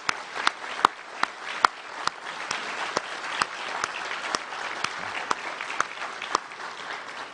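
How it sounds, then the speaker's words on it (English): An audience at a government awards ceremony for outstanding workers applauds the award recipients, with steady, moderately distant clapping from a crowd that continues evenly throughout. "you deserve a thunderous round of applause."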